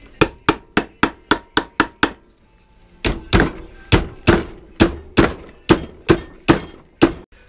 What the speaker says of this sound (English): But I whacked it with the old hammer.